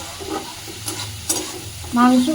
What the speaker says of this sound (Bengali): আমি মশলাটা দিয়ে ভালো করে কষাচ্ছি